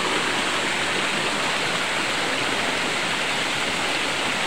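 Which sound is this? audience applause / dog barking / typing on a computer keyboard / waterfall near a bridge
waterfall near a bridge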